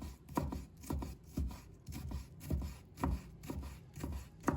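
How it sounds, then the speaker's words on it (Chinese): A knife chops fresh ginger into thin strips on a cutting board, a steady run of about a dozen crisp, evenly spaced chops, close and clear with no talk. "再切成丝"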